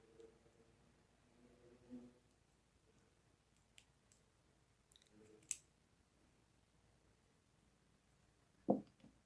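Scissors snip excess crochet yarn while finishing a sea shell doily, giving a couple of faint, quick clicks and a sharper cut near the end amid quiet handling.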